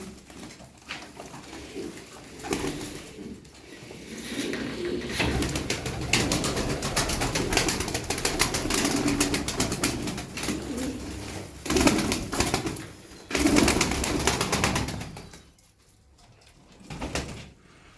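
Domestic pigeons of the taneli çakmaklı breed coo and rustle close by in a loft, with repeated soft coos, wing shuffles and a few louder knocks, and no voices.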